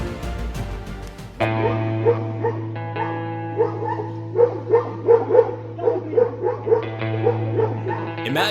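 A dog barks and yips repeatedly in a lively, uneven series, loud and close, over a steady sustained musical tone in the background.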